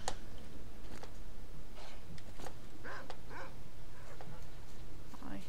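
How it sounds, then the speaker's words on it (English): A pseudo dog mutant in the Pripyat game gives short, scattered dog-like yelps and whimpers over a noisy background. The calls are irregular and moderately loud. "I hear a pseudo dog."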